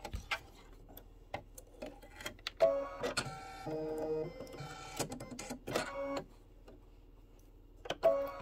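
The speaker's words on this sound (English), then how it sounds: "This is a placement stitch for the Mylar." An embroidery machine sews a placement stitch for Mylar on a bee block of a Kimberbell spring quilt, giving steady mechanical whirring and rapid needle tapping in uneven bursts, close and clear with no talk.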